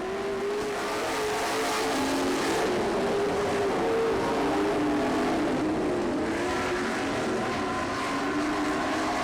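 Race cars in a heat race roar off turn 4 on a dirt track, a loud continuous engine drone that rises and falls as they pass at a distance.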